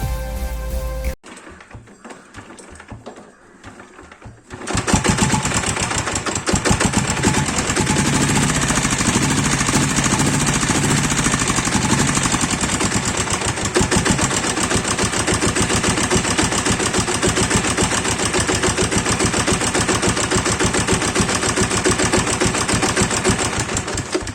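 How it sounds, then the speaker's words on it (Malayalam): A diesel Royal Enfield Bullet motorcycle engine kick-started, with a few mechanical clunks before it catches, then a loud, steady thumping idle running close up for about twenty seconds, no voices. "കിക്കർ വെച്ച് നമുക്ക് സ്റ്റാർട്ട് ചെയ്ത് നോക്കാം."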